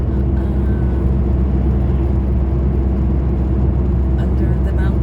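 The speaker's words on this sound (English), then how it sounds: "One of the longest tunnel. Just driving." A car drives through a long mountain tunnel, its engine and road noise a constant, loud low rumble and whir filling the space, with a voice faintly present underneath.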